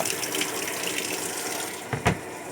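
Water rushes steadily into a Sharp ES-F69 washing machine, a constant close hiss and gush, with a couple of brief thumps near the end.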